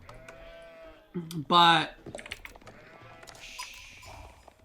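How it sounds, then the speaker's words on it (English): Sheep bleat in Age of Empires, with several short wavering calls, one loud and close, among game sound effects, plus a brief spoken word. "I get a lot of sheep, actually, which was good."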